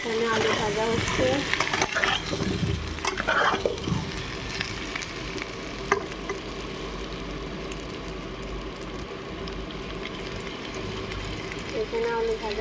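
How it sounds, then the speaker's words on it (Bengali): Potatoes frying in a pan for chicken curry give a continuous low sizzle with stirring scrapes and a few utensil knocks early on, then settle into a steady hiss. "এখানে আলু ভাজা হচ্ছে, চিকেন রান্না হবে।"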